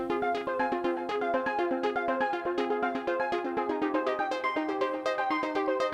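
Several Elektron Digitone synth arpeggios layer together in a techno jam, a dense, busy stream of rapid plucked notes interlocking in a steady rhythm, loud and continuous without speech.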